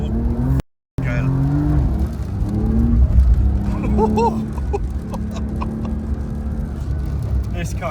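A Porsche 992 Dakar drives through deep snow on a hairpin mountain road, its engine note climbing and falling with revs under steady interior rumble, while occupants talk and exclaim over the drive.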